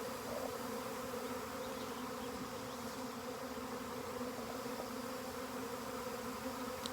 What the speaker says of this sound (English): So I'm trying to figure out where this swarm is. It's happening right now.